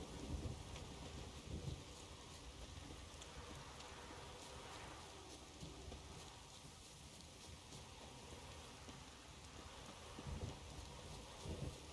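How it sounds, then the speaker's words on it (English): Steady rain and rumbling thunder in a fantasy Scotland-like region of the Witcher 3 video game, a continuous wash of rainfall with low rolling thunder building and swelling near the start and end, no talk. "Just a nice rainy day in fantasy Scotland, as one would expect."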